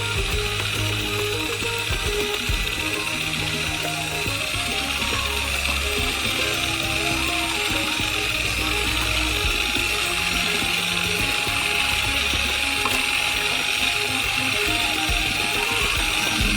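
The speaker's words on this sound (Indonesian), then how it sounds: "sambil mencampurnya dengan mixer." An electric mixer beats a giant Snickers ice cream batter, a steady, close mechanical whir with a rattling, grinding texture that runs unbroken for the whole stretch.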